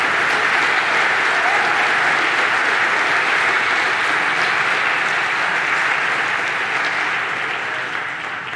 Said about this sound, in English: thanks, dear, dear audience, for applauding a live demo